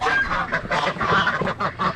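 Farm geese and ducks honking and quacking loudly as they are fed, a busy overlapping chorus of calls close by, rising and falling in bursts with no talk.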